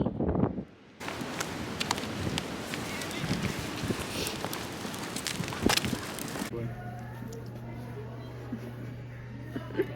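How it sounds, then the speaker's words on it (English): Wind at a park buffeting the microphone in loud rough gusts with rustling, cutting off abruptly to a quieter steady hum near the end, with a voice briefly heard early on. "It's so windy."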